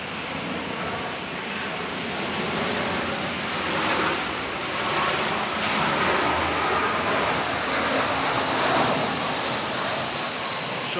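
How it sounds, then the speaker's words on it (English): Airplanes taking off from a nearby airport, a steady broad jet-engine roar that swells and fades in long waves throughout, loud and continuous with no talk over it. "there are planes taking off"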